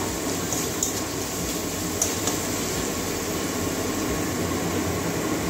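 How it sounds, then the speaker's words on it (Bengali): Ginger-garlic paste frying steadily in a pan while cooking Bengali bata fish curry, a dense, continuous loud sizzle and hiss running throughout with no talk. "এটাও কাঁচা গন্ধ যাওয়া পর্যন্ত ভাজবো"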